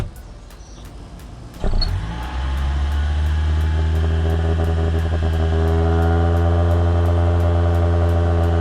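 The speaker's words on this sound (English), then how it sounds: "Let's go start up the Prius and see if this actually works." A Toyota Prius with a turbo exhaust whistle fitted starts up: a sudden close engine catch after a short quiet stretch, then a steady humming idle that holds loud and even to the end.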